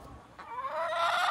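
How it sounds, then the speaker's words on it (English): A chicken close by lets out a rising, drawn-out cluck, loud and clear with no talking. "These are the Southern Reptiles chickens right here."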